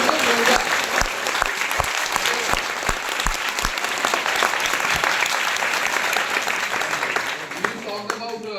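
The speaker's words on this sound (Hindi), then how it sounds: "एक बार जोरदार ताली होनी चाहिए इन सब लोगों के लिए" An audience at an empowerment training session breaks into loud, sustained applause, dense clapping that continues steadily throughout.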